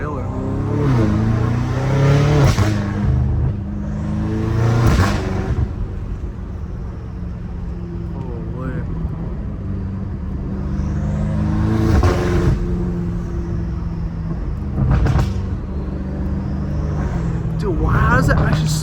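A straight-piped BMW M5 Competition revs hard again and again. Each blip rises to a loud roar and falls away, with people talking in between.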